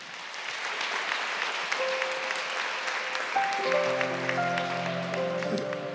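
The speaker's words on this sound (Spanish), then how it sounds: "Dele un aplauso a Él" Church congregation clapping in a broad, even wash of applause during a Sunday service, while sustained keyboard chords enter softly partway through and build beneath the clapping.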